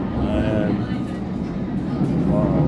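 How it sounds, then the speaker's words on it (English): London Underground train running, a steady loud rumble and rattle of the carriage throughout, with people talking over it. "Just got on the train and I'm heading to Great Portland Street"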